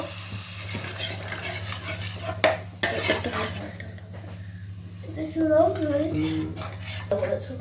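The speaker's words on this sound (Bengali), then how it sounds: "এবার ভালো করে এগুলো সব মিক্স করে নিতে হবে। দেখো, ভালো করে মিক্স করে নেওয়া হচ্ছে।" Chilli chicken coated in tomato and red chilli sauce being stirred and mixed in a pan, with a steady scrape of utensil against metal and faint sizzling running under nearly continuous talk.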